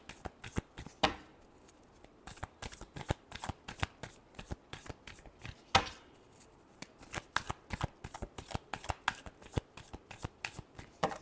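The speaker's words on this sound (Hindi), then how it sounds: "Last shuffle." Tarot cards shuffled by hand, crisp rapid riffling flicks in quick irregular bursts, close and clear against a quiet background.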